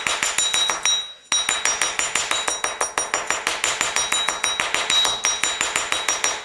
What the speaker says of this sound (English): You want to do it with your bench block and your rawhide mallet.